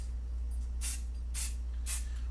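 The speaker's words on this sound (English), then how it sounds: "hit this with a little spray paint" Spray paint is sprayed onto a small art trading card in three short, evenly spaced hissing bursts, close and crisp against a quiet room hum.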